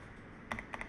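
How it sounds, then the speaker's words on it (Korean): A computer keyboard sounds faintly against a quiet room: two quick pairs of crisp key clicks from pressing Enter, close and light. "키보드에서 엔터 한번 쳐볼까요?"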